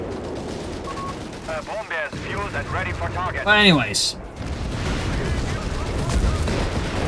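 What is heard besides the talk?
explosions and gunfire in a video game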